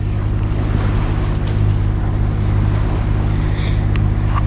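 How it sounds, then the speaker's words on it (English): A sailboat's auxiliary engine idles on Lake Michigan, a steady low droning hum that holds evenly throughout, with faint wind and water noise around it and no voices. "So we started the engine, running that for a while."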